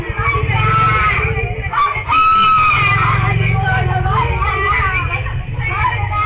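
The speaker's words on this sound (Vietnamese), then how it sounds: "những tiếng la hét thảm thiết vang lên" Loud, continuous screaming and yelling from several people inside a house during a violent family quarrel, a dense shouting babble that fills the whole stretch with only a brief dip.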